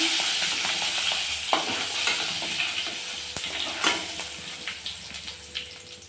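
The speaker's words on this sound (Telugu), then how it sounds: "ఇప్పుడు పోపు అయితే పెట్టేద్దాం అదే కడాయిలో పప్పు దినుసులు అండ్ ఎండుమిర్చి అవన్నీ వేసేసాను" A tempering of lentils and dried red chillies crackles in oil in a kadai for gongura chutney: a constant bright sizzle with scattered pops and spatters, plus occasional clinks and scrapes of stirring.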